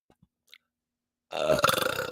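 A single long, loud, rumbling burp close up, following a stretch of near silence with a few faint clicks.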